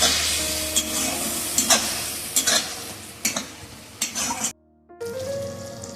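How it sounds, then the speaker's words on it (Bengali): Mutton curry masala cooking with a little water in a pan, sizzling up close while a spoon scrapes and knocks against the pan several times, then a brief silence before the sizzle resumes. "সব কিছুকে একসাথে ভালো করে নাড়াচাড়া করে রান্না করে নেব।"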